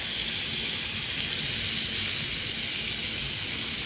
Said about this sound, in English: I'm going to chop up a Vidalia, pretty thick chunks. I like thick chunks of onion in my dressing, and so I'm just going to saute that up.